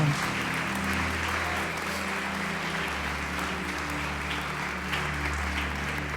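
A church congregation applauds during a worship service, a steady wash of clapping over sustained low organ or keyboard tones that continues evenly throughout.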